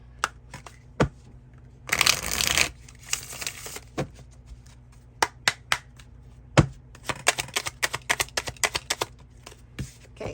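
Tarot cards in a love reading are handled up close: a short rustling riffle burst, then a long run of light, irregular card clicks and taps, with no voice.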